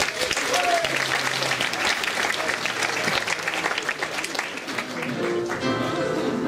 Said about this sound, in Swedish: En stor applåd för Tobbe Ström!